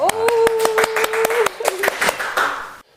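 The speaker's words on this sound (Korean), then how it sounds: "박수 쳐드릴게요" Hands clapping in a quick, steady series of sharp claps during an ocarina lesson, with a sustained held tone running beneath them before fading out near the end.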